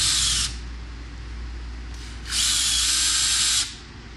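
A power driver backs screws out of an electric guitar's output jack, two loud, close whirring bursts separated by a quieter pause over a low background hum.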